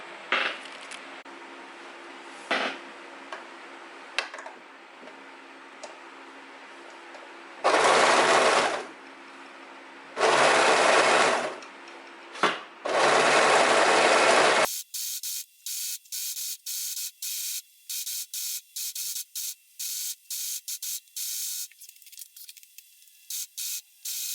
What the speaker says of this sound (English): So we need to overlock both of the seams